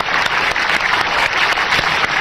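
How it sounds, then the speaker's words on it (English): A seated audience gives a brief, steady round of close, dense applause, uninterrupted and without voices. "Let's give her a round of applause."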